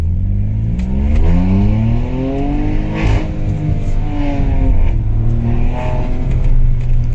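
A stage 2 tuned Hyundai i20 N Line with a Velvotronic exhaust revs loudly and steadily up and down through paddle-shifted gears, its engine note rising and falling close by with no talk.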